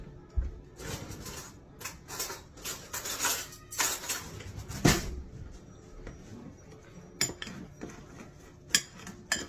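A spoon clinks and scrapes against a coffee cup while the coffee ingredients are stirred together, with quick close metallic taps and swirling rattles in irregular bursts, no one talking.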